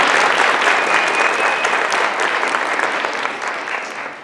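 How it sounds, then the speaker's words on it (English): A room full of spectators claps for a young volunteer named Tate at a magic and math show, loud dense applause that gradually thins and softens over a few seconds. "Let's give Tate a nice round of applause."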